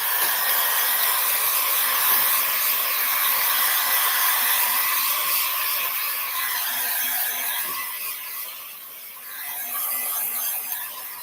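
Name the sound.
dryer drying art project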